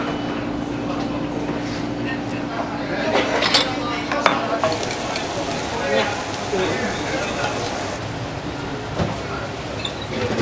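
Metal pans clatter and clink as vegetables are stir-fried in a busy sauna diner kitchen, with a continuous sizzling, scraping bustle and voices murmuring underneath.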